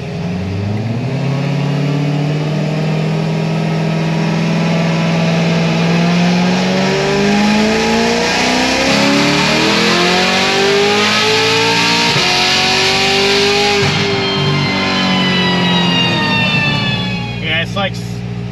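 A 1000 hp Corvette C7 Z06 pulls hard at full throttle, its engine note climbing steadily through the revs before a gear change near the end, loud and continuous from start to finish.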